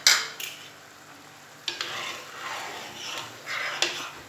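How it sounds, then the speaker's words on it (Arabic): Merguez pasta sauce is stirred in a pot with soft, repeated scraping strokes over a light background sizzle, close and fairly quiet. "نحرك مليح لاصوص هذه"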